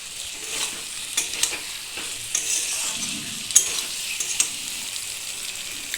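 Ground coriander and cumin spice mix stirred and fried in a pan for potol chingri, pointed and snippet stirring scrapes rising over a continuous soft sizzle.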